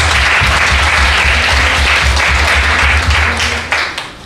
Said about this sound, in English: there's no better way of showing appreciation and our gratitude to them except for a huge round of applause